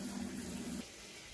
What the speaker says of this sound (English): Cold water's rolling, yeah? It's rolling in there.